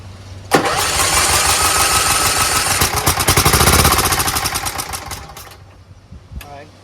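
A rebuilt Kohler Command engine on a John Deere LT160 lawn tractor cranks, then runs loudly and roughly for several seconds before winding down, with voices nearby.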